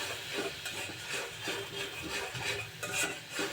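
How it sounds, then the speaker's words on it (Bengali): Spice masala with roasted cumin powder is stirred and fried in a pan for a flat-bean dish, giving close, rhythmic scraping and soft sizzling in repeated strokes. "সুন্দরভাবে আমি মশলাটা কষিয়ে নেব"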